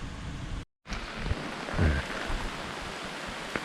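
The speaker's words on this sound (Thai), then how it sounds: "ฝนตกพรำๆนะครับ" Light drizzle patters steadily through a forest near Chan Ta Then waterfall in Khao Khiao–Khao Chomphu wildlife sanctuary, Chonburi, a soft even hiss with a brief dropout and a faint low thump partway through.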